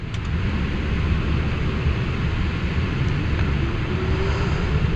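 Boeing 777F cargo jet engines roaring at takeoff thrust, heard from the cockpit as a loud, steady broadband rumble and rush without talking.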